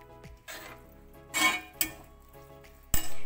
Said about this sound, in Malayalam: ഇനി നമുക്ക് ചെയ്യേണ്ടത് ഇത് നന്നായിട്ട് മിക്സ് ആക്കുക.